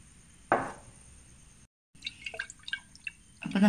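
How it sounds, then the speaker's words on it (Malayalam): Homemade grape wine sweetened with sugar syrup being poured into a glass: a sharp liquid splash, a brief pause, then a run of small trickles and drips ending in a louder pour, with no talking. "വൈൻ ഗ്ലാസ്സിലേക്ക് ഒഴിക്കുന്നുണ്ട്"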